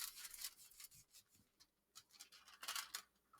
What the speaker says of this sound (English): Rub all over the paper to get the color on it.